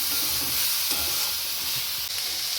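Ginger paste fries in a pan for aloo chop, giving a steady bright sizzle with faint stirring scrapes close by.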